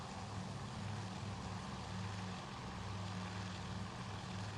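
Massed propeller aircraft engines in the Task Force Admirals naval game at the Battle of Midway, a steady loud low drone that holds throughout with no breaks and no talking.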